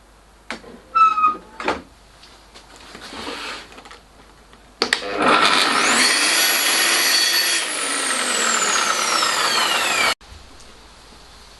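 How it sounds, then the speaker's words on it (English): A power saw slices diagonally through doubled wooden side strips, preceded by a few short knocks and handling sounds, then a loud, close, steady whine of cutting for about five seconds that ends abruptly, with no talking. "So I need to part them with a diagonal cut."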